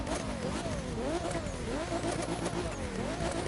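A car engine revving hard while drifting in The Crew 2 racing game, a loud continuous roar whose pitch swings up and down with throttle changes, close and without talk.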